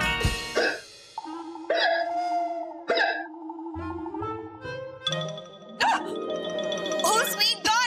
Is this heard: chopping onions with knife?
no